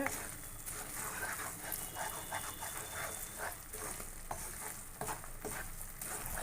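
Coconut burfi mixture of grated coconut and sugar stirred continuously in a pan, giving a steady scraping and bubbling texture that runs throughout, with occasional knocks and a dog barking faintly in the background.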